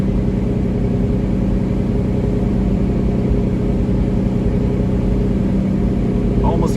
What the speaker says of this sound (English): Right now I can hear the fans kick on in the engine.